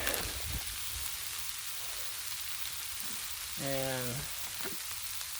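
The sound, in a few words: sliced kielbasa sizzling on Blackstone griddle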